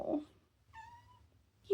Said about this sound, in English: You're my little void kitty.